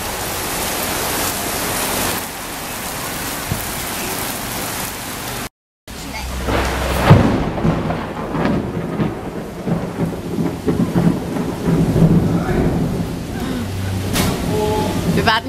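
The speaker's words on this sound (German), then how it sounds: "Es regnet immer wieder weiter." Heavy rainy-season rain pours down in Bangkok with a dense, rushing roar that continues without letup, broken by a brief cut of silence partway through.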